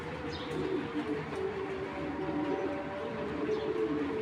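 A female Python black checker racing pigeon cooing, soft low coos over a constant background hum and faint chirps, with no voices.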